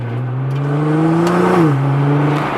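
A car engine revs loud and close, holding a steady roaring drone that rises, then drops slightly and sustains.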